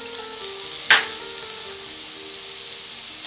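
Golden brown onions frying in a pan as ginger goes in, a steady close sizzle with one sharper hiss and clatter near the start, then a continuous even crackle with no talking.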